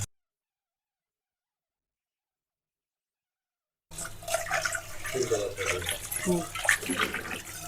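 Tap water pours steadily into a basin for washing in a home, beginning abruptly after a stretch of silence, with a brief voice and a cat meowing close by.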